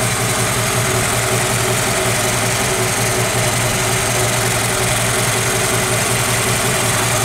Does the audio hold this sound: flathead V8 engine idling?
yes